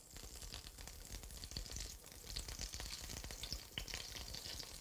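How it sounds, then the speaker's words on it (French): Raspberry vinegar poured into a hot pan of cooking juices, a continuous faint crackling sizzle with small popping spatters, close but quiet, with no voices. "On va ajouter, pour dégraisser le jus de cuisson, 3 cuillères de vinaigre de framboise."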